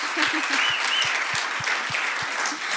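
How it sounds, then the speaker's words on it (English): A church audience breaks into steady, dense applause, loud and close, with a soft low thump recurring in a regular rhythm beneath the clapping. "Come on, you guys, give her a hand of applause."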